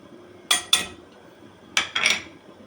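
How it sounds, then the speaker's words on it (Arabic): A utensil stirs onion and spices in a metal pot, giving two quick pairs of sharp metallic clinks and scrapes separated by a short pause. "وهتقلبي البصله بالتوابل كده"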